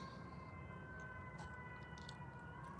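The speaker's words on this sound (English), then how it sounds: "I hear sirens." A faint siren wailing in the distance, a thin sustained tone hanging over quiet background noise, with no voices.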